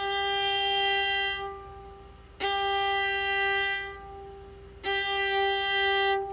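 Three sustained violin bow strokes on the same pitch, each stopped cleanly and then restarted with a crisp attack after a short pause, played close and alone at moderate volume.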